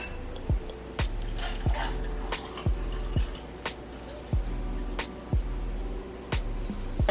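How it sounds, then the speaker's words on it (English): A matcha drink is poured and dripped into a cup, with repeated soft plops and drips at a fairly even pace over a faint trickling background, close and quiet. "Okay, let's pour her up."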